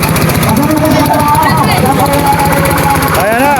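A racing boat engine at a bancarera race in Naujan sputters and chugs loudly as it starts, a rough, rapid knocking under a fast-talking announcer's commentary.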